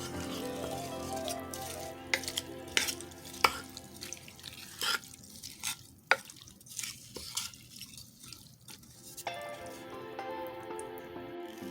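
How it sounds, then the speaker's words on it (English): Creamed corn ingredients with sugar and ground black pepper being mixed in a bowl for a slow cooker dish, giving soft wet squishing and dripping sounds with scattered clicks, fairly quiet and without talk. "Now all you want to do is mix it until it's well combined."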